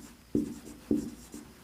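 Three distinct tapping strokes of a pen or marker on paper during a class 11 maths lesson on sets, close and fairly loud, spaced about half a second apart with brief scratches after each.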